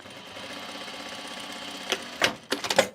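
A sewing machine stitches fabric, first as a quiet steady hum, then in several short, loud bursts of rapid stitching close by toward the end.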